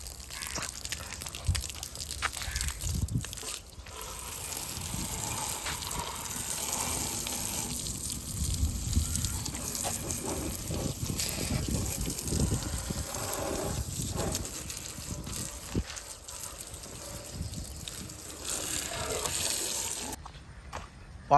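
Water sprays onto a dusty Honda motorcycle during a wash, producing a continuous gushing, splashing rush with shifting intensity, fairly close and loud, then cutting off near the end.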